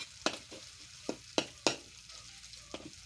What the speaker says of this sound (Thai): ผัดพริกให้หอม ผัดพริกให้หอมก่อนเด้อจ้ะพี่น้อง